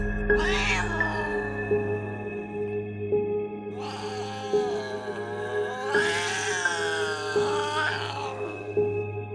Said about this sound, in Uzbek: padvanning ichkarirog'idan mushukning qo'rqinchli ovozi eshitildi